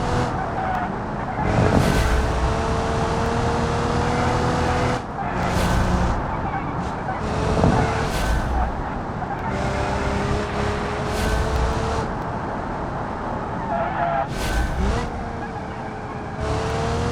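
A car in the BeamNG driving game brakes hard and skids with squealing tires over a steady, loud engine drone, with repeated bursts of tire noise throughout.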